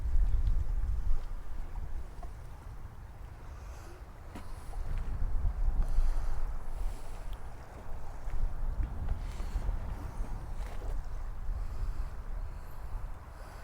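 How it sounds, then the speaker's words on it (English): Strong wind buffets the microphone on the River Humber during a sea fishing trip as rain sets in, a continuous low roaring rumble that swells and eases in gusts. "It's got real windy"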